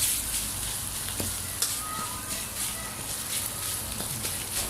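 Thai curry paste stir-frying in a pan, heard as a continuous soft sizzle with occasional light scraping and stirring taps, close and steady throughout.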